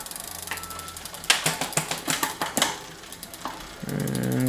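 A bicycle rear derailleur shifting through the gears on a stand: a quick run of sharp mechanical clicks and ratcheting, then a smooth whir of the spinning drivetrain, close and without talk.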